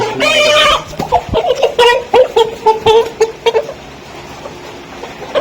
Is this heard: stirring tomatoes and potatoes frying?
no